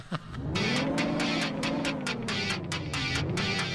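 Steady video game car engine drone, rising and falling slightly in pitch as it drives, with a rhythmic ticking or clattering layered on top, continuous and fairly loud throughout.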